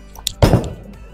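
A bowling ball, a Sublime Focus, lands on the lane with one solid thunk, close and fairly loud, then a softer rolling rumble fades out with no voices.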